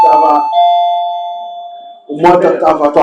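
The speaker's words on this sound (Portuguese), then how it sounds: "tocou até o sininho aqui" A single bright chime rings out and slowly fades over a couple of seconds, with people talking before and after it.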